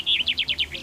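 A common chaffinch sings a short phrase of about five rapid, descending chirps ending in a flourish, clear and close with no other sounds.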